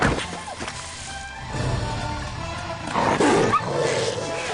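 Cartoon dogs snarl and bark in a busy, loud burst of growls and yaps layered over music and clatter, with a bigger roaring surge near the end.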